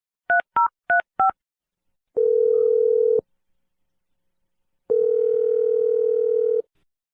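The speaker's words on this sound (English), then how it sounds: "I'm going to dial her phone number right now." Four quick touch-tone beeps in a row, then two long steady tones separated by silence, like a phone ringing out on the line.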